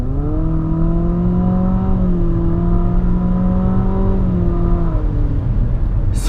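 A 2019 Infiniti QX50 with a CVT in sport mode accelerates at full throttle, a loud, steady engine drone rising in stepped pitches through programmed shifts before easing off near the end, with no talk.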